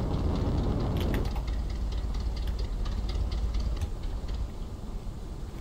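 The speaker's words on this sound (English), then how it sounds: "I hear an old car, I hear a car," An old car's engine in a video game gives a continuous low, rumbling drone that is loud at first and then eases slightly, with no speech over it.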